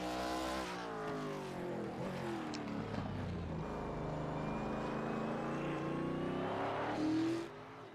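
ARCA stock cars race at Sonoma in a racing video game with a loud, sustained engine drone. Several overlapping engine tones rise and fall in pitch as the cars run side by side, heard steadily and without talk.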